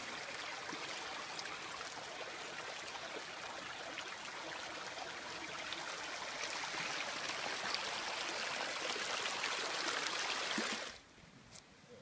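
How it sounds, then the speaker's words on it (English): Water rushes through a hydro system pipe running nearly half a mile and dropping about 250 feet, making a steady, soft hiss that stops abruptly near the end. "After a couple of hours, the water runs fully clean from nearly half a mile away"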